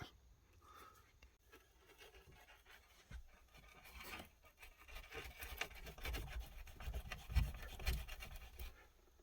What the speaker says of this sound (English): So I'm going to use that drywall saw and cut this out.